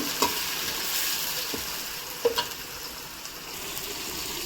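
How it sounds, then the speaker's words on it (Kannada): A tomato fries in a little oil in a pan for mutton fry, giving a soft continuous sizzle broken by a few light stirring knocks, with no voices. "ಒಂದು ಟೊಮೊಟೊನೂ ಸ್ವಲ್ಪ ಎಣ್ಣೆಲ್ಲೇ ಫ್ರೈ ಮಾಡ್ಕೋಬೇಕು."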